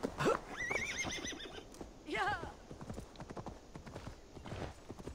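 In Assassin's Creed Valhalla, a horse whinnies several times over a quick run of clip-clopping hooves, with the neighs rising and falling in pitch.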